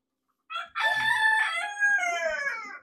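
Chickens on a poultry farm, with a rooster crowing loudly and close over several overlapping calls and some background clucking, no talking.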